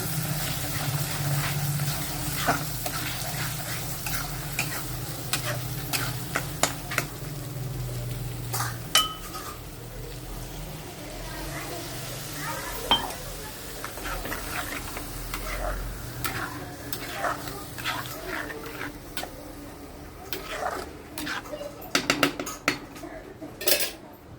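A utensil stirs and mixes ingredients in a metal pot, with steady scraping, clinks and clatter close by throughout and a low background hum that fades after the first several seconds.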